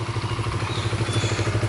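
A motorcycle engine in good condition runs steadily at idle, a close, loud, evenly pulsing chug with light mechanical clatter throughout.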